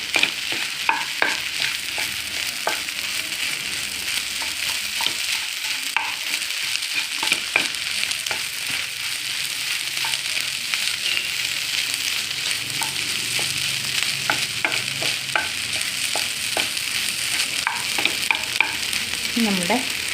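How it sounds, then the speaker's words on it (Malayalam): Ivy gourd and egg stir-fried in a pan, a continuous loud sizzle under frequent quick scraping and tapping of the spatula throughout, with no voices. "നന്നായിട്ട് മിക്സ് ചെയ്യണം കേട്ടോ."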